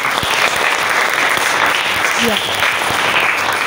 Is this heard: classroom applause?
yes